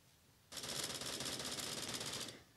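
Rapid automatic gunfire in the Bullet Force video game, a single continuous burst of about two seconds that cuts in sharply and stops abruptly, loud and close, with no talking.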